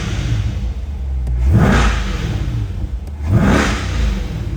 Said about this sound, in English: I love the way these C8s sound, especially with the MPP exhaust